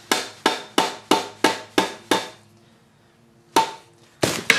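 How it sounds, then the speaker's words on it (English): A rubber hammer taps on a handmade wooden oar during oar making, giving seven sharp, evenly spaced knocks, then a pause, then two more close, loud strikes, with no talk. "I got my rubber hammer out now"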